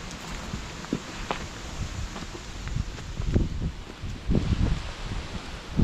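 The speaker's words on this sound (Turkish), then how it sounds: "Rüzgar esmeye başladı." Wind gusts through foliage in a village vegetable field on a rainy night, leaves rustling in uneven swells that grow louder toward the end, with faint scattered knocks beneath.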